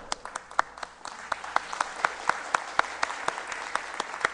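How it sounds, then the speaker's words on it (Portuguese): Audience applause at a talk on Blender and free software, many hands clapping in a steady crackle for about four seconds with sharp individual claps on top, alone and with no speech. "só para o pessoal aplaudir você"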